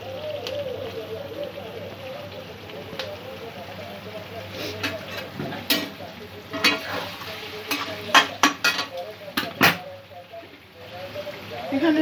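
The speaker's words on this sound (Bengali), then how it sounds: "আলু দিয়ে 5-7 মিনিট আমি মশলার সাথে কষিয়ে নিয়েছি।" Potatoes sautéing with spices in a pan for aloo dum, a soft continuous sizzle broken by sharp scraping stirs that cluster toward the end.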